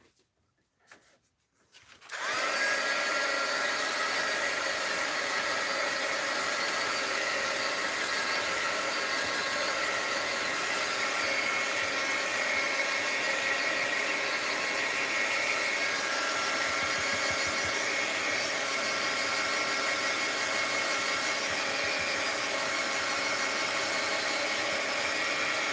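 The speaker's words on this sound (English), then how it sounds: "Now I am going to dry this a little. Heat gun alert." Heat gun drying a mixed-media art journal page: after a couple of seconds of quiet it switches on to a loud, steady, close blowing whoosh with a constant fan whine that continues unbroken to the end.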